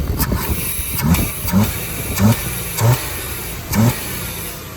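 A 1992 Chevrolet S10 pickup engine runs steadily nearby with a low rumble, rising in brief rev surges about once a second.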